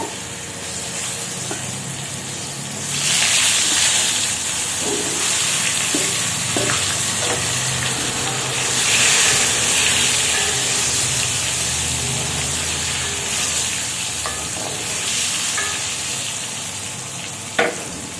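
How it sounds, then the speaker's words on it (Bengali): Potatoes frying in a kadai of hot oil with turmeric and salt make a loud, steady sizzle that swells and fades, with occasional soft stirring knocks and no talking. "এবার এক এক করে আলুগুলোকে সুন্দরভাবে ফ্রাই করে নেব।"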